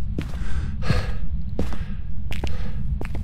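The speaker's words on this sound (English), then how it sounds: "this breathing is like insanely loud right into my new headphones" Heavy breathing in the Phasmophobia ghost-hunting video game, loud and close, recurring as several sharp gasping breaths spread across a few seconds over a steady low background hum.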